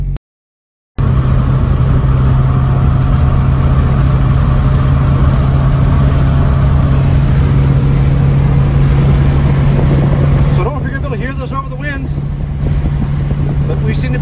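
A Yugo car's engine drones steadily while driving, a constant low hum with road noise close inside the cabin, with a brief rattling disturbance near the end.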